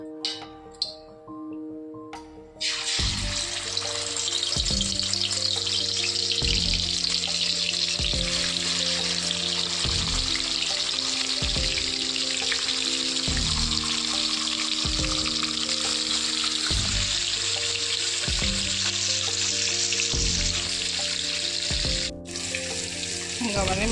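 Fish frying in hot oil for an Odisha-style fish curry gives a loud, steady sizzle that runs without a break under a repeating musical background.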